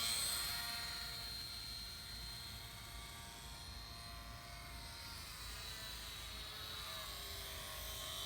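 An electric ultra micro RC airplane in flight, giving off a thin, high-pitched motor and propeller whine that holds steady for several seconds with slight shifts in pitch, faint and somewhat distant.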